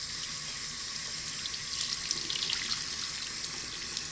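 Tap water runs steadily as a bath pouf and a bar of handmade soap are wetted under it, a faint, continuous splashing hiss close by with no voices.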